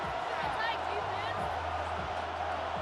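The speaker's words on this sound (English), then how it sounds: "This crowd turning up the decibel level" A stadium crowd roars continuously in the Madden 26 football video game during a Cowboys vs Giants matchup, a broad, steady wash of cheering with faint thumps underneath.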